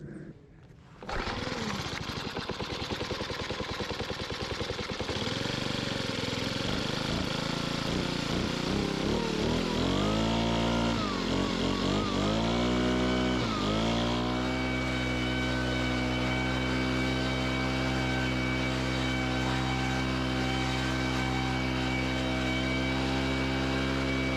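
A gas-powered blower starts up and then runs at a steady, loud drone, revving through several pitch changes before settling into a constant roar. It is being used outdoors to spread clover seed for spring frost seeding.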